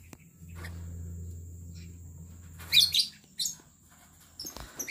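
Small lovebirds in a cage give a few brief, faint chirps and tweets after a low steady hum, with soft rustling and movement between calls.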